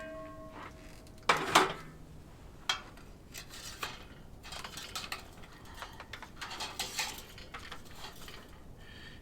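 Picanha is flipped on a grill at a remote campsite, giving a sharp metallic clatter of tongs against the grate, followed by lighter scattered clinks and taps at close range with no talking.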